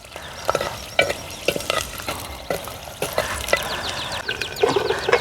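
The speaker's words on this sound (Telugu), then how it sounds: "ఇప్పుడు కొంచెం నూనె కాగిన తర్వాత కరివేపాకు కొంచెం ముక్కలు తీసుకొని" Curry leaves crackle and sizzle in hot oil in an outdoor forest kitchen, with frequent sharp pops and stirring scrapes over a constant frying hiss, close up.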